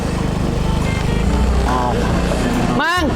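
A motorcycle engine drones steadily up close, with a rising whine near the end and voices briefly audible over the motor.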